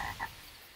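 Two quick cartoon frog croaks sound close together in the first quarter second, clear but brief, then fade into a quiet background hum from an animated children's show.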